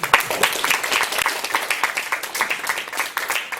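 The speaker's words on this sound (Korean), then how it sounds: "큰 박수로 환영합니다" Audience applause at a Christian writers' association new-author award ceremony in Washington State, welcoming the prize winners: dense, steady clapping from a nearby crowd, continuous for the whole stretch without anyone talking.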